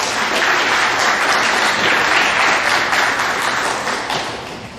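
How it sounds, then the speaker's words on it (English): A crowd of students and staff applauding at a middle school awards assembly, loud, dense clapping sustained throughout and slowly tapering off toward the end, with no speech over it. "give these guys one more big round of applause"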